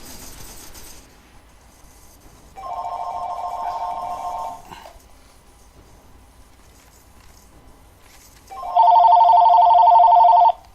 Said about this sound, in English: Sorry for the phone call there, folks. That was a telemarketer.